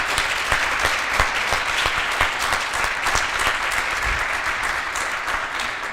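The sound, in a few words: applause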